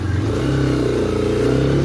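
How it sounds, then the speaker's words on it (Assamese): Motorcycle engine revving up close as the bike is wheeled out of a room at the start of a ride, a steady throaty rumble that swells briefly, with no talk over it. "বাইকখন উলিয়াই লওঁ"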